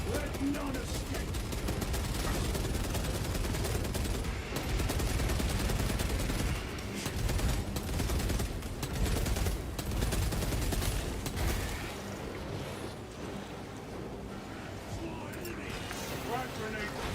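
Heavy bolter fire in a Warhammer-style video game, a sustained loud barrage of rapid gunshots and explosions with dense battle noise throughout, easing slightly toward the end.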